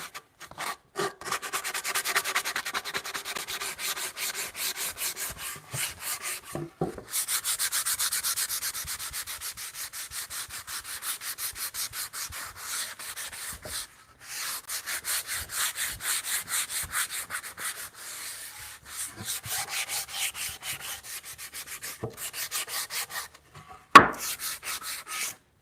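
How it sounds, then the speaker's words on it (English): Hand sanding on wooden bunk bed rungs, a steady rhythmic scratching rasp of abrasive strokes going back and forth close up, with brief pauses between passes and a single sharp knock near the end. "I'm sanding down and just softening up"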